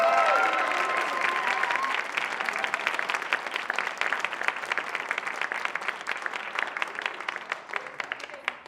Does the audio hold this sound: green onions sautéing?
no